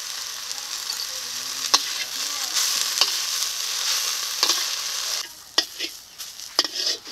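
Data shak (amaranth greens) seasoned with turmeric and salt fry in a pan with a steady, close sizzle, broken by a few sharp scraping stirs and utensil clicks that grow sparser toward the end.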